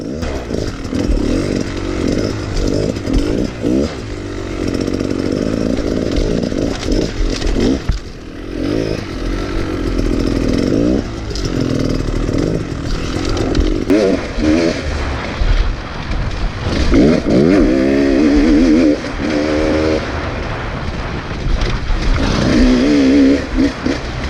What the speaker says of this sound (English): The 250RR two-stroke is an oil-injected model.